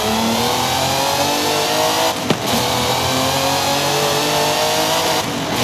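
A 1930s V12 racing car engine in Forza Horizon 5 screams at high revs, loud and close, holding a steady high-pitched wail with a brief blip midway.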